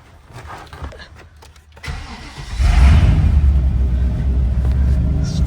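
Melted big block Chevy V8 in a 90s truck cranks and fires up cold, a brief quiet rustle giving way to a loud, deep, steady idle rumble that continues to the end.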